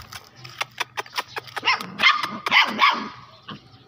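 Small puppies barking in a residential lane, a quick series of sharp yaps and yips in the first half, then louder, closer barks with some whimpering toward the end.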